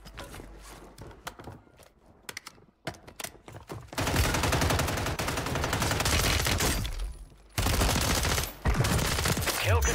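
HRM-9 submachine gun fire on Rebirth Island in Warzone, rapid close bursts of automatic shots, first in sparse sharp volleys, then long sustained loud strings of fire with a brief pause before resuming.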